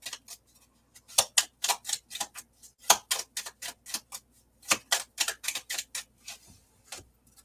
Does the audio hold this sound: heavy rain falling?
no